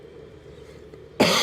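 One sudden, loud cough from a person with a lingering cough bursts out near the end after quiet background hum.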